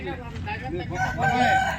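A fighting rooster crows at a Sunday country chicken market in Vijayawada. The crow is drawn out and fairly close, with market bustle and faint voices mixed in under it.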